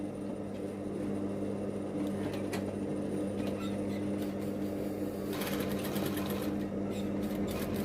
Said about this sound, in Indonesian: Kita bisa langsung jahit pas dengan polanya ya